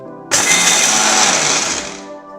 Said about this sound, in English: So here let's grind the roasted masala.